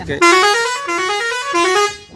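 A loud bus horn blares in long musical blasts, three sustained honks close by, with faint voices underneath, at a village jatra opera.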